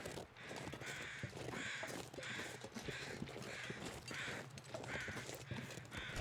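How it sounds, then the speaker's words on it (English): Crows caw repeatedly in The Long Dark, a series of harsh calls in an irregular rhythm at middle distance, over a steady wind-like background rush. "I do hear more crows."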